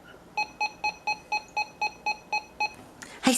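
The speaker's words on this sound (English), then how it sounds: "those are the button beeps, clearly" A series of ten short electronic button beeps from a RadioShack 12-382 radio in an even rhythm, clear and close, followed by a brief burst of noise at the end.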